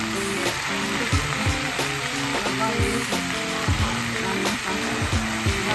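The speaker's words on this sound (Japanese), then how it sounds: "お肉がね、焼ける音がしてくると" Chicken meat sizzles and fries in a Napa cabbage hot pot, a steady close crackle with occasional stirring scrapes and clinks throughout.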